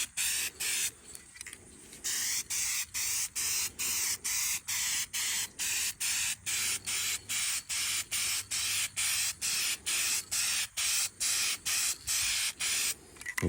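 Primer spray on a repaired plastic front bumper of a 2017 Ford Focus, heard as a long series of short, evenly spaced hissing bursts, close and steady, with no talking.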